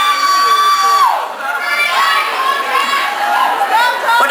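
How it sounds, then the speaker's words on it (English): A concert audience screams and cheers, a loud continuous crowd roar of high shrieks from many voices filling the hall throughout. "What are you screaming at the top of your lungs?"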